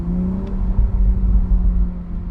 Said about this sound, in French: Ça fait des petites explosions, un petit brrr comme ça.